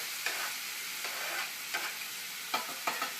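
Yellow pepper, red pepper and garlic sizzling in a hot pan for a coconut fish broth, a steady close frying hiss broken by several soft stirring scrapes, with no talking.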